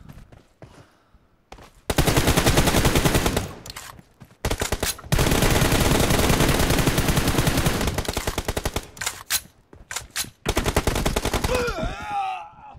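Long loud bursts of automatic gunfire from PUBG Mobile, several sustained volleys broken by short gaps, a brief spoken voice near the start and a whooshing sweep at the end.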